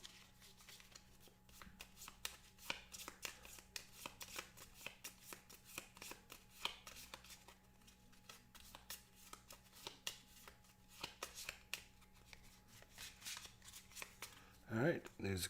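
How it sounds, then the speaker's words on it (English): Cards from the Fire in the Lake board game being shuffled by hand on a table, a steady run of quick crisp riffling snaps for about fifteen seconds, close and fairly quiet, with a brief clatter at the end. "Shuffle these up, make them random."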